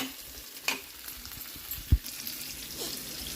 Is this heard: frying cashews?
yes